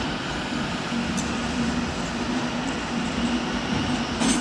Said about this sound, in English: departing behind me should be the 1556 London Northwestern Railway service to Birmingham New Street.